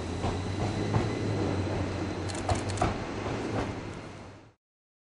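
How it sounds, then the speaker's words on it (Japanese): An Odakyu Romancecar limited express train arriving at Hakone-Yumoto station rumbles steadily close by with a low mechanical hum and occasional clanks, then the sound cuts off abruptly. "1番線には当駅折り返し10時47分発の特急ロマンスカー箱根10号が到着をいたします"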